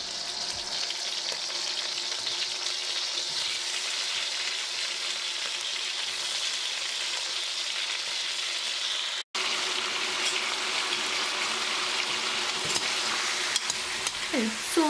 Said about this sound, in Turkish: soğanımı sarımsağı ilave ettim içerisine. Şimdi güzelce kavuracağım